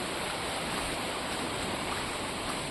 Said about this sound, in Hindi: कल कल करती नदियों की आवाज़ हमारे साथ चल रही है।